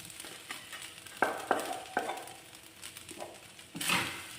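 Precooked sausage sizzles and fries with rice in a non-stick pan, with steady frying hiss broken by scraping stir strokes and a few sharp utensil knocks, close and moderately loud, no voices.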